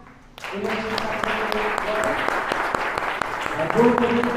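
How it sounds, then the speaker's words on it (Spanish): After a brief quiet moment, a veterinary lecture audience starts clapping and keeps up a moderate, even round of applause, with a voice talking faintly through it. "si les damos un fuerte aplauso a MBZ Sandra Esnaurriza"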